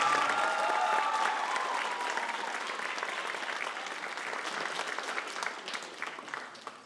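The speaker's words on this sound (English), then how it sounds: "Can we give her a round of applause?" Audience applause at an evening school choir concert, a dense, sustained clatter of many hands filling the hall, loudest at the start and slowly thinning over about seven seconds, with faint voices and a few cheers mixed in.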